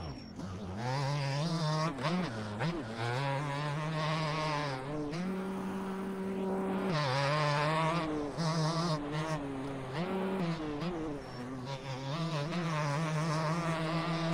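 A two-stroke dirt bike engine races at Redbud in a motocross video game: a loud, continuous buzzing whine that climbs and drops with throttle and shifts, with no talking.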